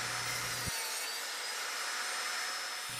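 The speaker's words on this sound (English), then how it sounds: "turn those blocks 90 degrees, and cut 3/4 inch slat spacers from those blocks" Red oak blocks being cut into 3/4 inch slat spacers on a saw, giving a steady, close, continuous sawing roar across the whole moment with no talk.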